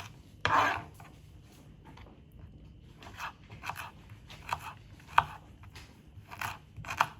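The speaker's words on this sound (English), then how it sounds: "And you can start off by cutting it into julienne pieces and then dicing it up." Ginger being cut into julienne strips and diced on a board, quiet scattered knife strokes in small clusters, close and soft, with no talking.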